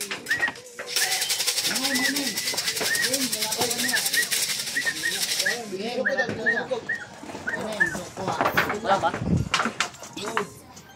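Repeated soft racing pigeon coos sound close by in a steady pattern, with broadband hissing noise early on and people talking intermittently.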